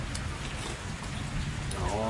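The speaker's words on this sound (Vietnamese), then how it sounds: "hôm nay trời mưa" Rain falls in a steady, broad hiss that fills the whole stretch, and a voice comes in briefly near the end.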